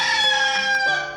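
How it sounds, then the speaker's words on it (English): A rooster crowing once, loud and close, a single drawn-out harmonic call lasting about a second and tapering off at the end, with no other sounds. "R, rooster."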